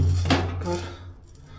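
Dishes and utensils clink as home-cooked food is served onto a plate for dinner, a few light knocks over a steady low hum.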